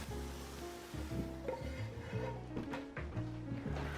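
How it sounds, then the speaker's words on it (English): A spoon stirs sausage, peppers and mushrooms together in a casserole dish, giving soft, close scraping and shuffling sounds in a few uneven strokes, with a faint sizzle underneath. "I'm going to give everything a stir so that it's well incorporated."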